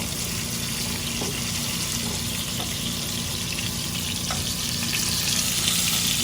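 Cod fillets frying in a pan while being flipped: a steady, close, broadband sizzle of hot oil running continuously, with a few faint soft knocks from the turning utensil, no talking.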